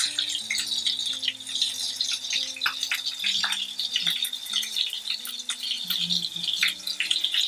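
Steady crackling sizzle of minced meat patties frying in a hot pan, with occasional louder pops and scraping clinks, continuous and close.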